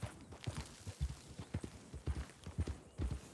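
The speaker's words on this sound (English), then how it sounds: "A horse." A Tennessee Walker horse walks in Red Dead Redemption 2 Online, its hooves clip-clopping in a steady, close, rhythmic gait with no talking over it.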